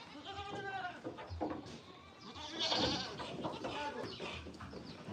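Pet goats on a family farm bleat repeatedly, close and fairly loud, with wavering cries overlapping and a bit of background farm noise.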